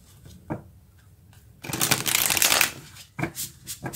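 A deck of tarot cards is shuffled alone in a quiet room, with a few soft flicks and taps before a dense, loud riffling burst lasting about a second, then more scattered card slaps.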